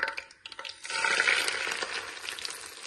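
Vermicelli roasting in melted ghee in a pan over a low flame, giving a steady soft sizzle with scraping stirs, the frying building after a few brief clatters at the start.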